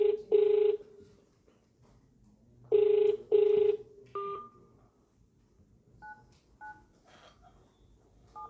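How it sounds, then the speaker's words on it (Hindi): Telephone ringback tones from an unanswered call to a government official, repeating in paired bursts of electronic ringing with gaps between, followed by faint shorter beeps; no one picks up. "अजय शंकर फोन नहीं उठा रहे।"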